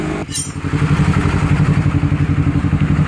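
A Honda CBR250RR motorcycle's 3Tech Evox X3NRC aftermarket exhaust burbling with a steady, pulsing rumble while riding, close and loud, after a brief sharp noise at the start.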